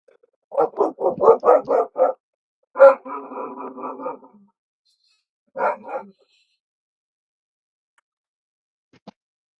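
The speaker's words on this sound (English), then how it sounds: "I see the flashlight has angered the dogs." Dogs bark in a rapid burst of about six loud, close barks, then a longer growling bark run and one final short bark, with quiet gaps between and no talk, set in a tabletop RPG scene.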